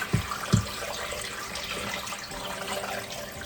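Water pours steadily into an Instant Pot loaded with pork bones, ribs, garlic and onions, a close, even splashing stream with a couple of soft thumps at the start.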